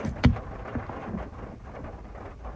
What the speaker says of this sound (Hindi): देखिए दोस्तों अभी भी बिजली बारिश चालू है थोड़ा थोड़ा, टेंट के ऊपर भी बारिश